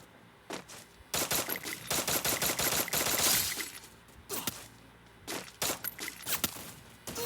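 Game gunfire in Free Fire, loud bursts of rapid automatic shots in two main clusters with scattered single cracks between, close and dense, with no talk over them.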